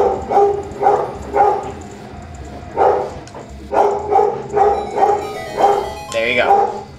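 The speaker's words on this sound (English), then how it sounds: "My dog just does not know when to shut up." A pet dog barks repeatedly, eight or so loud, evenly spaced barks close by, ending in a higher yelp, over a steady background hum.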